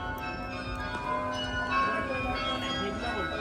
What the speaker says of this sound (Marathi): ते वाजायला लागले बेल, फार सगळीकडे आवाज येतोय हा ह्याचा.